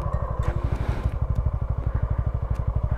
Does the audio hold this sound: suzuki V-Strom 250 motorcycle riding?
yes